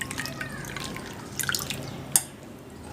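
Mushrooms being washed by hand in warm water, with soft splashing and dripping plus one sharp clink partway through, close and fairly quiet, with no talk.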